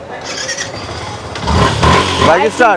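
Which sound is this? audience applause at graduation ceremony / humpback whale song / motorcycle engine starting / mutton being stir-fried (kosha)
motorcycle engine starting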